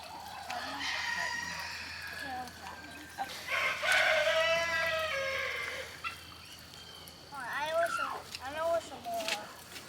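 Backyard garden chickens cluck and a rooster crows in short bursts, heard up close with people talking faintly at times.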